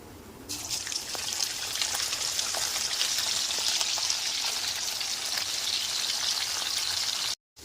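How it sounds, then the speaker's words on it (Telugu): Chicken pieces for chicken pickle fry in hot oil with a steady, dense sizzling crackle that begins abruptly and continues evenly, then cuts off briefly near the end. "మిగతా పీసులు ఉన్నాయి కదా చికెన్ పీసెస్ అవి వేసేసుకొని ఫ్రై చేసుకుందాం"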